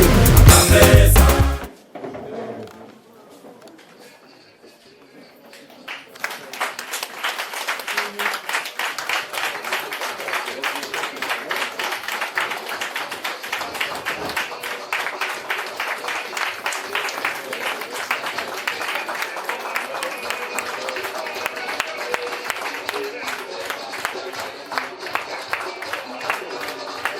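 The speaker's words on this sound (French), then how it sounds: "on est accueillis par le prix à l'applaudissement de la salle" An audience in a hall in Lyon applauds at a political meeting, a sustained dense patter of many hands clapping that follows a burst of loud speech and a short lull.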